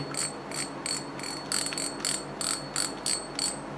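Quick bursts of sharp mechanical clicking repeat in a steady rhythm, the ratchet of a Daiwa Joinus 3500 spinning reel, close and fairly quiet with no voices.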